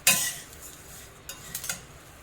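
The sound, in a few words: roasted coriander seeds being transferred to a plate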